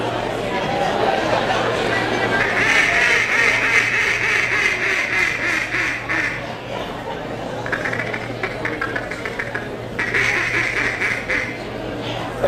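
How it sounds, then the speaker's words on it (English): A duck call blown in a banquet hall gives repeated raspy quacks over a chattering crowd, with the calls coming in bursts amid the steady room noise. "Phil, throw the duck call again."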